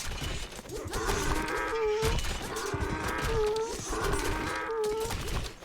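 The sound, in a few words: donkey noises in a Mythic Wars strategy video game match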